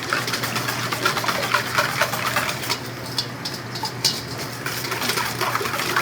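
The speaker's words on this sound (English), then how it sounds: "We're gonna give that a good little whisk here." A whisk beats nutmeg into a custard mixture in a bakery kitchen, making a steady, close, rapid scraping patter against the bowl that continues throughout.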